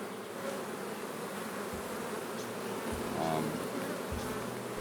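Honey bees at an open Flow and Langstroth hive during a brood inspection produce a dense, continuous buzz, with individual bees droning past nearby over the steady swarm hum.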